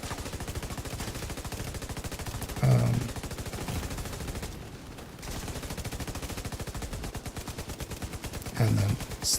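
Rapid bursts of gunfire in a PVE shooter video game, loud and continuous for several seconds with a brief lull mid-way and heavier impacts at intervals; no talk.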